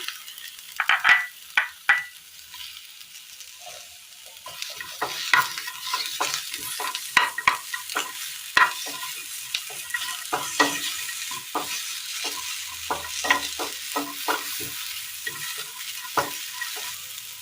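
Okra and chopped onion fry in a pan. A soft sizzle runs under frequent sharp scraping and tapping strokes of a spatula stirring the vegetables, close and busy, with no talk.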